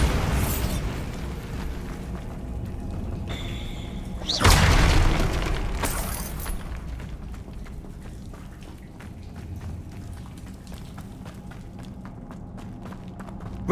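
A Bombarda blasting spell in Hogwarts Legacy erupts as a loud booming burst partway through, then rumbles off into game ambience with scattered footsteps and impacts and no voices.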